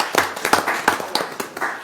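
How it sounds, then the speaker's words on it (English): A small office group claps for an employee-of-the-month award, a handful of scattered, uneven hand claps close by that spread over about two seconds without voices. "So let's give Tanya a round of applause"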